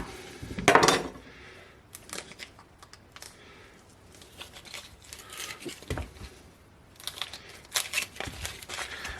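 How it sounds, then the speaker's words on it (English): A knife dicing onion for vegetarian borscht, with irregular clusters of close tapping chops on a cutting board, one loud knock near the start and steady light cuts after, no talk over them. "And the onions just get diced."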